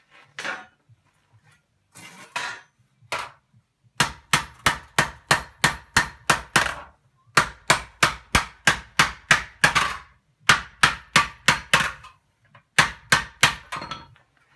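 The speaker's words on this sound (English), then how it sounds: "using a blocking hammer, tool like this here, hammer the silver on the tree trunk" A blocking hammer strikes silver on a tree trunk while raising a sauce boat by hand, in quick rhythmic bursts of blows separated by short pauses, loud and close.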